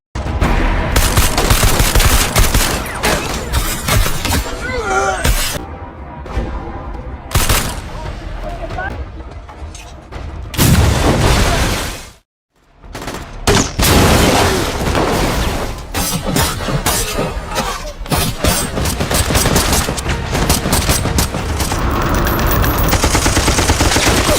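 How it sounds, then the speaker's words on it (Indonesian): A loud, sustained film shootout between soldiers, police and a lone fighter, with dense bursts of machine-gun fire and booming shots rattling almost nonstop, one brief silent gap midway, under occasional talk. "yang terjadi drama adu tembak tak terhindarkan"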